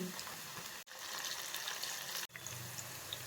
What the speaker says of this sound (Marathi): तेल तापलेलं आहे कांदा टाकून हळद टाकू मिरची घालू